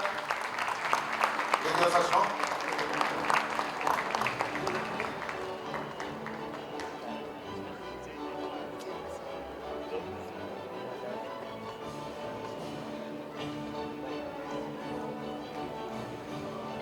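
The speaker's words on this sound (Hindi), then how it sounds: "जोरदार तालियां" Loud applause from an audience at the Sarvottam Nagrik Samman 2026 awards ceremony, strongest at the start and then settling into a steadier, fainter patter, with music or voices running underneath.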